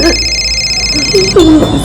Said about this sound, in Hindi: प्रेरणा का फोन है।